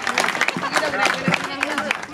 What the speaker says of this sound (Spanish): El aplauso sea para él.